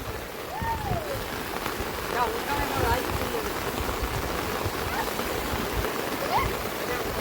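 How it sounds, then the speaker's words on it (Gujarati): Heavy rain in Rajakot village, Gujarat, falling steadily, a dense close hiss of drops on surfaces with flowing water beneath, continuous and fairly loud, with faint whistling tones drifting over it and no clear talk. "આ બાજુ ફૂલ વરસાદ આવી ગયો છે"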